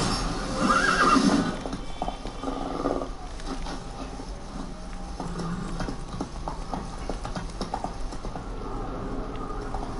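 The horse Roach in the video game Witcher 3 gives a loud whinny near the start, followed by a steady clip-clop of hooves and faint game ambience running through the rest.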